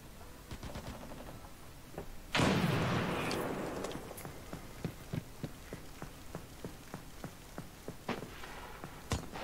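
A grenade goes off in the video game America's Army: Proving Grounds during a fight in the Inner Hospital map. It is a single loud, booming blast with a long decaying rumble, surrounded by sharp, rapid gunshots, and no talking.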